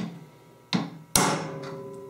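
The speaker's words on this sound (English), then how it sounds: "one good tap of the hammer should get it embedded in there." Two sharp hammer taps on a metal eyelet tool setting an eyelet into a wooden beehive frame, a lighter one followed by a louder ringing strike that decays slowly, close up.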